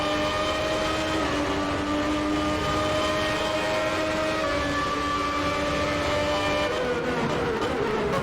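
A Ferrari F1 car from the 1994 season in Assetto Corsa passes two Jordans and a Minardi at the French race, steady high engine whines layered together and holding loud before shifting pitch near the end.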